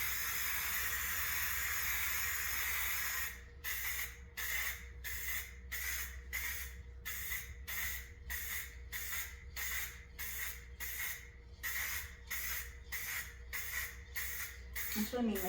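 Spray paint can sprayed onto a plastic nativity figure: steady hiss at first, then a long series of short, regular bursts with brief gaps, close and clear under a steady low hum.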